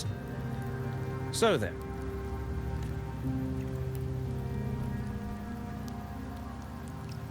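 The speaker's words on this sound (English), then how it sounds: "The rains in Septimont never seem eager to leave this season." Steady rain falling in the rainy Septimont region of the video game Wuthering Waves, a constant even wash of drops throughout, with a short voice line and a rising tonal swoop near the start.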